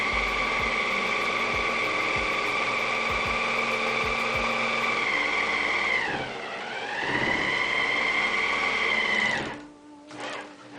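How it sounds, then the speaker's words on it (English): A serger sewing machine runs steadily and loudly, trimming and overlocking a fabric edge in one continuous pass, its motor pitch dipping briefly before it slows and stops near the end. "the serger is nicely trimming the edge and tucking it under, so I have my complete edge finished in one pass of the serger"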